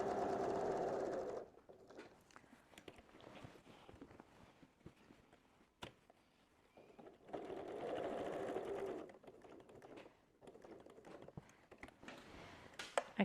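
A sewing machine stitches quilting lines through fabric in bursts of fast, whirring motor stitching, with quieter pauses between runs where the fabric is shifted and handled, heard close up.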